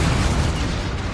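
A Confringo spell explodes in the video game Hogwarts Legacy, a loud, dense, rumbling burst that fills the short moment at full strength.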